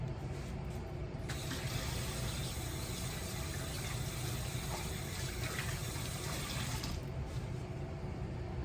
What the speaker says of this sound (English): We're going to go back to our sink and we're going to give it a quick rinse